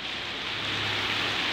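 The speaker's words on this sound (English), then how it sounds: "All right, let's go home, it's raining." Steady rain falls outside a parked car, a dense, even hiss of drops drumming on surfaces that holds constant and fairly loud throughout, with no voices.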